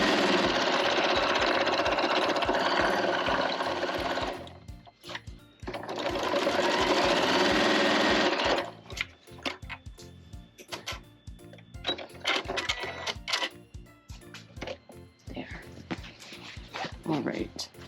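Domestic sewing machine back stitching over handles on a caddy made from an old quilt, running in two loud sustained bursts with a brief pause, then lighter stop-start clicks and thumps of handling while a person talks.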